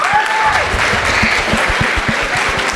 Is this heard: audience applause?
yes